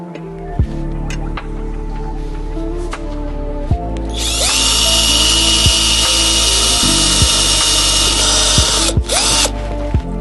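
A power drill runs in a loud, steady whine for several seconds while fixing bolts for a luggage mount on a Honda Africa Twin CRF1000 motorcycle, framed by clicks and knocks of handling beforehand and a brief stop near the end.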